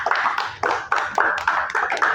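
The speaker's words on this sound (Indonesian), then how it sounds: "Tepuk tangan untuk kelompok 3" Classroom applause for a student group presenting in an automotive engineering teaching assessment: a small number of people clapping in quick, uneven bursts, close by and fairly loud, with no talk.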